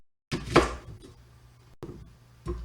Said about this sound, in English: I'm going to finish up cutting all the vegetables. Finalizing with the onion.